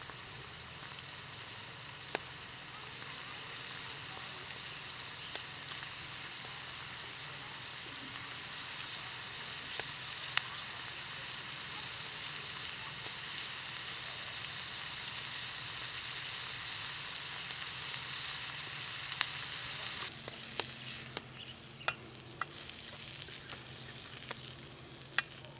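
Bacon crisping in a pan gives a steady, dense sizzle and crackle that holds close and even throughout, with a few sharper ticks and pops toward the end and no voices.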